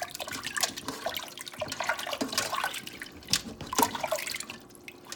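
Catfish heads are rinsed under running water, with steady splashing and trickling broken by brighter drips and spatters as the fish is handled close by.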